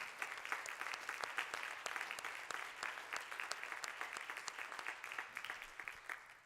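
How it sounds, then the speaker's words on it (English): An audience at a community talk gives a round of applause, many hands clapping in a dense, even patter that sounds somewhat distant and soft, then tapers slightly at the end. "Can we do one more round of applause?"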